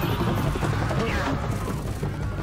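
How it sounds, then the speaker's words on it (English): Chaotic Left 4 Dead 2 firefight with Molotov fire and explosions, a dense continuous roar of blasts and crackling bursts that stays loud for the whole stretch, with gunfire-like crashes mixed in. "There's fire explosions everywhere!"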